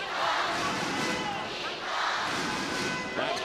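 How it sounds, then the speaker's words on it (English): Large arena crowd at an Iran versus Japan men's volleyball World Cup match roaring in full voice, swelling in waves across the whole stretch while a commentator talks over it. "The crowd gets into full voice."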